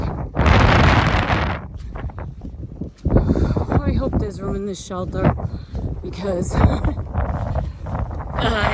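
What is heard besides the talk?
strong gusty wind on the Appalachian Trail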